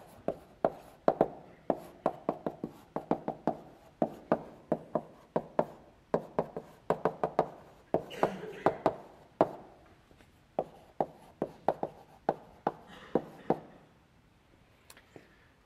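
Chalk or marker tapping and scraping against a board during a lecture, a long run of quick sharp knocks and strokes in irregular bursts, close and clear, fading to a few faint taps at the end with no talking.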